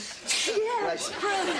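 Two sharp, breathy sneeze bursts break through a person's close, brief talking.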